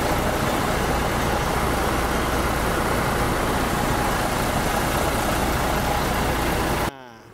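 A Hino RK8 bus with a Jetbus 3 HDD body, its engine running with a loud, steady, broadband rumble that fills the clip without a break, then drops away abruptly just before the end.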